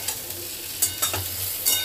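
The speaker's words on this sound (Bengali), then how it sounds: "এবার বেগুনগুলোকে দিয়ে ভাজবো।" Eggplant pieces frying in hot oil while being stirred, a soft continuous sizzle with a few brief scraping bursts from the stirring, heard up close and alone.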